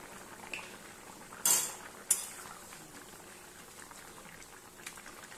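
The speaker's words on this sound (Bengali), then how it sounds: "ঝোলটা খুব ভালোভাবে ফুটছে।" Fish curry gravy bubbles in a pot, a low steady simmering hiss under a couple of bright metal clinks of a utensil against the pot and a brief scrape.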